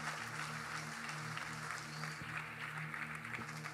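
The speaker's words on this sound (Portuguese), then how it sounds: "Uma salva de palmas para Jesus." A church congregation claps in sustained applause, a dense, fairly faint patter of many hands continuing evenly throughout.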